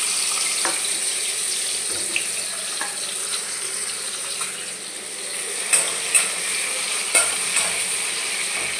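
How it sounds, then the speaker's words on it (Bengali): Sliced onions fry slowly over low heat in a pan to make crisp beresta for a paneer biryani, giving a steady soft sizzle with a few brief clinks and stirring knocks. "এই জন্য পেঁয়াজটাকে লো করে আস্তে করে ভেজে নেব।"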